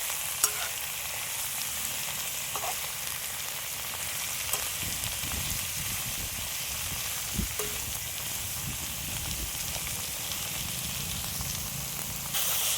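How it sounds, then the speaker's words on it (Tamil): Golden onions sauté in a pan with a continuous, close, crackling sizzle, steady from start to finish, with a few faint clicks of a stirring spoon and no voices. "வெங்காயமெல்லாம் வந்து நல்லா பொன்னிறமாக வதங்கிடுச்சு இப்போ வந்து இதையே இப்படியே வந்து வதக்க வேண்டியதுதான்"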